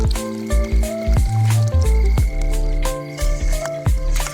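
Tamarind water is poured into a vessel in a village kitchen, with gurgling, bubbling splashes and tones that shift in pitch as the container fills, heard alone and close.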